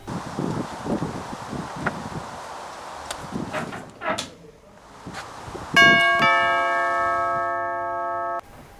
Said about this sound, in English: The doorbell suddenly rang.